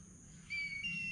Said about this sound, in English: What bird is that?